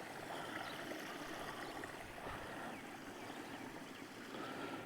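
Irrigation water flows along a channel through potato fields, a faint, steady, broadband rush that continues evenly with no voices.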